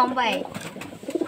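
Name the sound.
pigeon cooing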